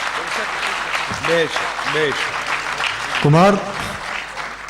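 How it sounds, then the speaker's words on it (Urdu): An audience applauds at a poetry recital. The clapping runs under a voice speaking and calling out a name. "تو آپ اپنی تالیوں سے ان کی سوچ کے لیے آپ ان کو سراہیے"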